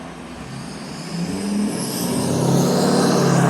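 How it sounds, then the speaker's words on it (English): A vehicle drives past on a road during a power outage, its engine and tire noise swelling steadily louder as it approaches close by. "Another vehicle just went right behind the one in front"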